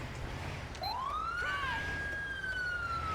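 Siren of an ambulance responding code 3 in GTA 5, rising into a loud wail and then holding a steady, sustained tone over a constant low rumble.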